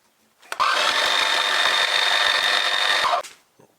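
A power tool whirs steadily for about three seconds at close range while a dimple is cut into the centre of a steam engine connecting rod, starting and stopping abruptly with a faint ticking chatter underneath.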